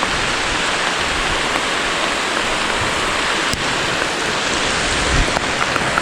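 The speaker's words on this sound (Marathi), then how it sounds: "ह्या साईडला पाऊस आहे ना भरपूरच वाढलाय पाऊस हा भरपूर पाऊस आहे" Heavy rain pours down steadily and loudly at a night campsite, a dense continuous hiss of drops hitting surfaces all around, with no voices.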